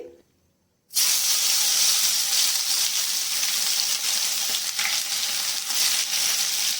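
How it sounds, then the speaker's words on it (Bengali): Minced garlic and half an inch of chopped ginger fry in hot oil for chili paneer, a loud steady sizzle that starts abruptly after a brief silence and holds at an even level with no talk. "একটু ভালো করে ভেজে নেবো আদা আর রসুনটা"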